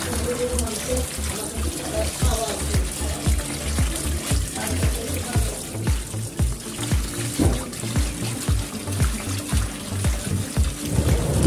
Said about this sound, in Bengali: এভাবে আমি ভালোভাবে কষতে কষতে ধুয়ে নেব।